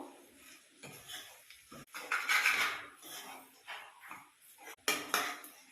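Paneer noodles stirred in a metal pan with a spoon, scraping and clinking against the pan in bursts of varying loudness, fairly close and quiet, with no voice over the stirring.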